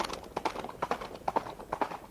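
Horse hooves clip-clopping at an even walking rhythm, close and clear, with a faint background hum and no talk.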